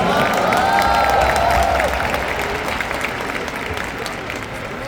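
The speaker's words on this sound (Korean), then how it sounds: "박수 한번 부탁드리겠습니다" A stadium crowd applauds and cheers at FC Seoul captain Jesse Lingard's farewell ceremony, a dense, loud wave of clapping with a few whistles early on that slowly eases over several seconds, with voices mixed in.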